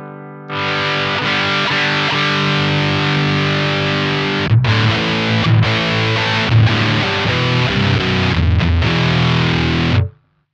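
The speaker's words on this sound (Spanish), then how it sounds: "Ahí lo tenés al máximo, obviamente se pone un poco más ruidoso el pedal" Electric guitar played through a ProCo Little RAT distortion pedal with gain turned to maximum rings out in loud, saturated chords, with a sustained opening and then several choppy strums and short breaks before it cuts off.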